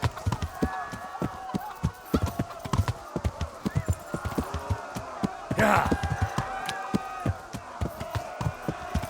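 Horse hooves clip-clopping in the medieval video game Kingdom Come: Deliverance, a steady rapid beat of trotting hoofs with a brief louder rustle partway through, under occasional speech.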